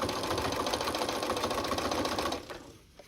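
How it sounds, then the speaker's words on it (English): A sewing machine runs in a fast, even burst while stitching along the inside flange of a picture-frame quilt border, then stops abruptly near the end. "I'm just going to go ahead and sew down right along the inside flange"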